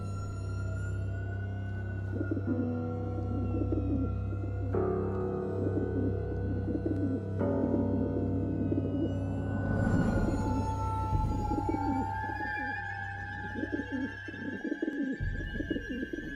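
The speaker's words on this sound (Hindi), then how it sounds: "पेड़ों पर कबूतर दिखाई दिए।" Pigeons coo from trees, their soft rounded calls repeating against a steady low drone that runs almost the whole length, with a few brighter bird notes and a thin high tone entering later.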